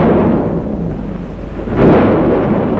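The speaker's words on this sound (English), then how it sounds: "The storm's right behind us." Thunder rumbles loudly out at sea during a storm, a deep sustained roar that swells again near the end, heavy and close with no voices.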